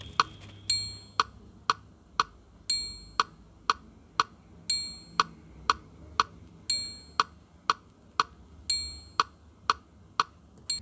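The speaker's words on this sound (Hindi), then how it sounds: "तो ये जो मेट्रोनोम बीट का पैटर्न चल रहा है, इसमें 3 बार टिक टिक टिक कर रहा है, चौथे पे किचेस कर दे रहा है ना।" Metronome beat pattern on a Casio CTK-2550 keyboard: steady, crisp ticks repeat evenly, with a brighter, ringing accent click marking the start of each group, heard alone and fairly quiet.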